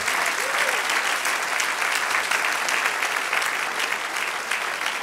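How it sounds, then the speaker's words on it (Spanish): A church congregation claps during a sermon, sustained dense applause from a large crowd holding steady throughout, with faint voices mixed in. "Denle un aplauso al Señor."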